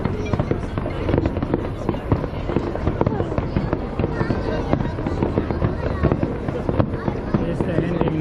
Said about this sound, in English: you can still clearly see and hear the fireworks as it happens